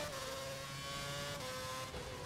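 A Formula 1 car races flat out in the F1 2011 video game at the Singapore GP. The engine holds a steady, high-revving whine with faint pitch shifts and sits low and even throughout.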